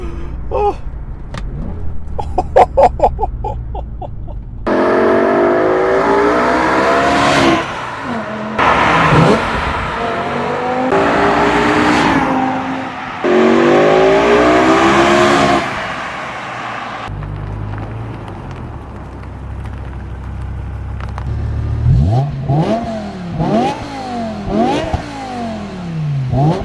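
A BMW M5 E60 with a V10 engine and manual transmission revs hard while driving, loud sweeping rises and falls through the gears in several bursts, with some handling noise and brief cabin sounds between pulls.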